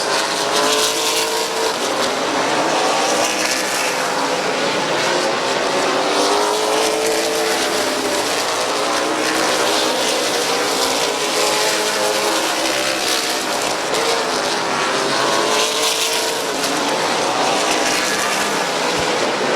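Race cars roar continuously around the oval at Midvale Speedway, engines droning loud and steady with rising and falling pitch as the pack passes through lap traffic, no voices over it.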